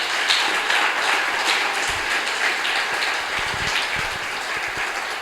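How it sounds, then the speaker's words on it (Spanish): A congregation at a church service claps loudly for the Lord, a sustained wash of hands like heavy rain that holds evenly throughout, with no voices on top. "Dele un fuerte aplauso al Señor."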